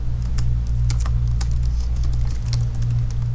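Someone types a password on a computer keyboard, producing a steady patter of close, crisp key clicks over a low constant hum.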